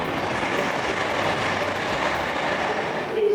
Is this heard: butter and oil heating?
no